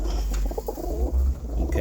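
Pigeons pulled out for a bath coo close by in low, soft, repeated throaty calls over a steady low background rumble.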